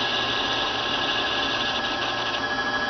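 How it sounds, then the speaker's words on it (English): A Baby Lock Rachel sewing machine motor keeps whirring after the bobbin finishes winding, a constant close mechanical hum with a fine buzzing texture, heard alone. "you will still hear the motor running and you will have to hit the stop button"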